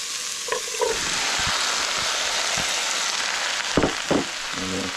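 Garlic and tomato fry in a pan for tomato zucchini soup, giving a steady, close broadband sizzle with a few stirring scrapes and clinks. No one talks.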